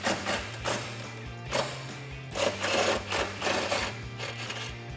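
A 13mm socket on an extension ratchets loose an exhaust hanger bolt under a Dodge Challenger, giving repeated clicking bursts in a quick rhythm, close and fairly loud.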